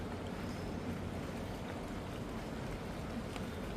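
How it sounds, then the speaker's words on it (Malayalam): Floodwater of the swollen Nila river at Cheruthuruthy surges past a boat house gate, a steady broadband rushing roar that holds at an even level throughout, with no voices. "നല്ല രീതിയിൽ വെള്ളം വന്നുകൊണ്ടിരിക്കുകയാണ്"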